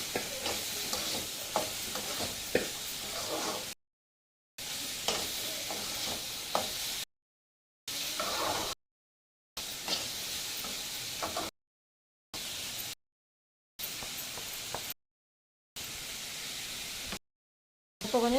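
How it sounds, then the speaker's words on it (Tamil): Carrot and beans stir-fry with turmeric is stirred in a pan, giving soft, quiet scraping and a gentle sizzle in short broken stretches with gaps of silence. "மஞ்சள் போட்டு நல்லா கிண்டி விட்டு விடுங்க."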